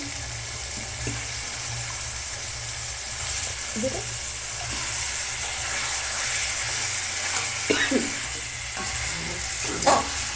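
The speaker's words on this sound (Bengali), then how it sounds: "এখন আমি মাংসটা দিয়ে দেবো দুই রকম মাংস দিয়ে দিচ্ছি" Two kinds of meat land in hot spice paste already fried until the oil separates for a chicken dish, giving a steady sizzle with scattered stirring scrapes and clinks, close and moderately loud.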